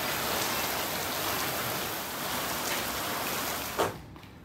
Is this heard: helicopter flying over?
no